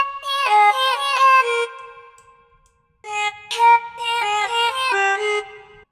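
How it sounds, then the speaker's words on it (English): A pitched vocal chop melody drenched in large reverb, bright choppy syllables in two phrases separated by a brief gap, each trailing into a washed-out tail, played alone without talk. "And now comes the fun part and that's the reverb, so it doesn't sound dry anymore."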